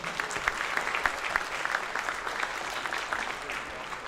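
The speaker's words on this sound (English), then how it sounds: "So give these parents a round of applause." Sustained applause from a crowd at a high school athletic signing ceremony, honoring the athletes' parents; steady, dense clapping that holds throughout at an even level with a few louder claps standing out.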